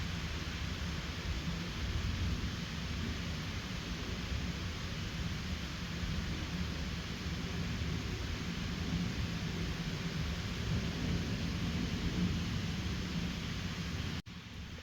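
Heavy rain pours during a strong August thunderstorm over Bordeaux, a steady, dense hiss that continues unchanged for the whole stretch with no distinct thunderclap standing out.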